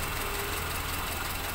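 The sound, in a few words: Toyota Kijang carburetor engine being revved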